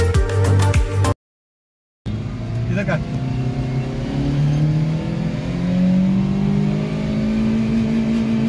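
A modified Suzuki Mehran car engine turns over and settles into a rising idle with revving swells, close and loud after a brief gap of silence, with a voice talking over it.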